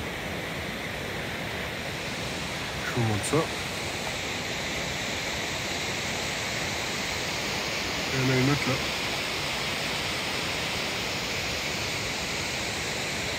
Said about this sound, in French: Nous voilà quasiment à la cascade. On est presque au pied.